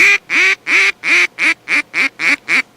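Nine loud, evenly spaced duck quacks in a steady rhythm, close to the microphone, with no other sounds between them.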